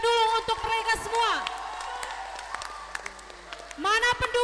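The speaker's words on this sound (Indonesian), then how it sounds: "kita berikan tepuk tangan yang meriah dulu untuk mereka semua." An audience at a school academic competition gives a round of applause, a loose scatter of claps of moderate loudness in the middle, with a voice speaking before and after it.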